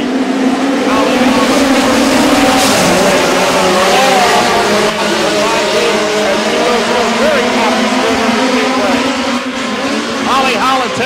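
POWRi midget race cars circling Spoon River Speedway, a continuous roar of engines with rising and falling revs as cars pass, heard under a steady announcer's commentary throughout.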